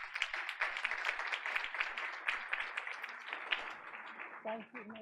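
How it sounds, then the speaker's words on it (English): A round of applause from the audience at a school board of education meeting, steady close clapping lasting several seconds, with a voice starting to speak at the very end. "Let's welcome her with a big round of applause."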